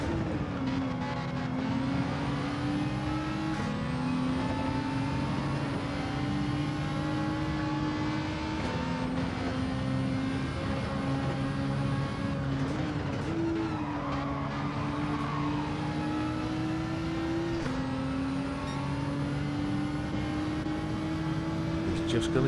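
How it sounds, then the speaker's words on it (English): GR4 race car engine in Gran Turismo 7, a steady high-pitched drone with shifting revs and upshifts, running loud and continuous throughout with no one talking. "Listen to the engine note of that thing."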